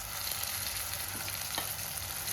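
Tempering spices frying in hot oil for a red chilli pickle, a steady close sizzle and crackle running throughout with no talking.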